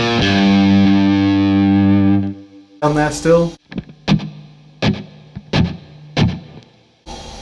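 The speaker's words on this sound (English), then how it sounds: "It's more like it is more like a distortion sound." Distorted electric guitar through a lead channel with effects pedals, played single-coil style: a long sustained loud chord ringing out, then a run of sharp picked stabs with gaps between them, a brief voice speaking among them.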